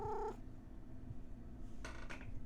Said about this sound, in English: Kitty hears you talking and wants to join in.